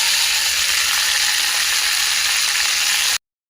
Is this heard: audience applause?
no